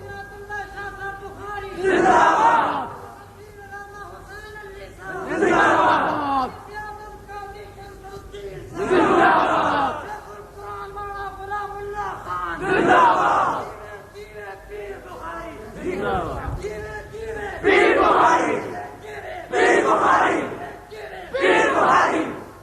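A large crowd at a religious gathering in Rawalpindi chants slogans in loud, repeated bursts, each surge swelling and fading, with an amplified leading voice between the choruses.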